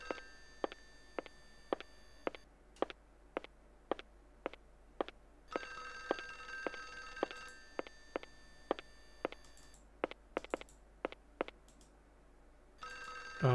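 A telephone rings repeatedly in the video game Clock Tower for Windows 95, with sharp evenly spaced ring bursts in a steady rhythm, briefly pausing and then resuming, heard alone with no talking.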